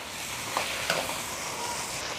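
Pork sizzles in a hot wok after ginger, scallion, garlic and fermented black beans are added for a chilli pork stir-fry, a steady close hiss with a couple of brief clanks, no voices.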